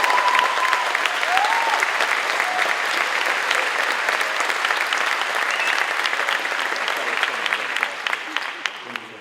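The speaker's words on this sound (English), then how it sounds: "go ahead, round of applause" A graduation audience of master's graduates and guests applauds, a loud, dense wash of clapping that stays steady across the hall before tapering near the end, with a few faint voices mixed into the crowd.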